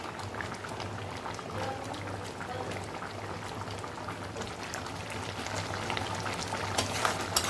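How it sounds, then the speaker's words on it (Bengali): Crab masala gravy simmers in a pan with a soft, continuous bubbling and faint sizzle, heard close but quietly and alone, growing slightly louder toward the end. "এবার এটা ফুটুক খানিকক্ষণ, তারপরে নামাবো।"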